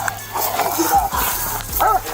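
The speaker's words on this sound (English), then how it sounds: "I'm gonna send this dog over." Police dog confronting a suspect during an arrest: a few short, gruff barks and whines in a noisy outdoor scene, mixed with shouting voices.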